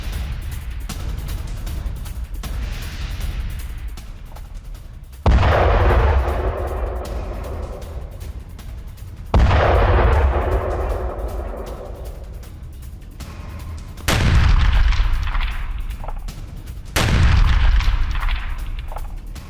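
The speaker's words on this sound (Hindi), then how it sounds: "खार्किव में रूसी सेना का बड़ा हमला, रूस की आर्टिलरी ब्रिगेड ने धावा बोला" Russian artillery brigade guns fire in Kharkiv: four heavy booms with long rolling echoes, each decaying slowly before the next, spaced several seconds apart over a steady rumbling background.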